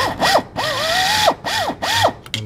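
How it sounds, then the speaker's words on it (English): A power drill countersinking a rivet hole in metal, heard up close and loud as several whining bursts that rise and fall in pitch, with brief pauses between runs and no talk. "I'm just gonna take and give it a quick little countersink."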